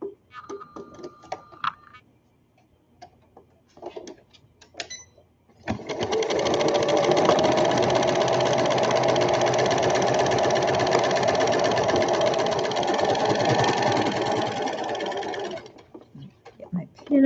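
A sewing machine starts after a few seconds of quiet handling and light voice, then runs in one loud, steady stitching stretch of about ten seconds before stopping.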